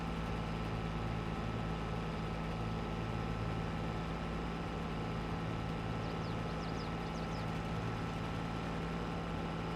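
A tractor engine in Farming Simulator 22 drones at a steady low idle-like hum, constant and fairly loud, with no breaks and no voices over it.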